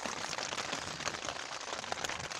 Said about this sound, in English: Started raining.